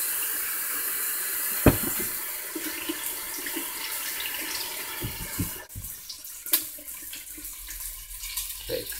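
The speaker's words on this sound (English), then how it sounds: "Washing my hands." Tap water runs steadily into a kitchen sink during handwashing, a continuous hiss and splash with a few clinks and knocks, the flow thinning toward the end.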